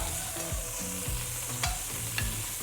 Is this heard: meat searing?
yes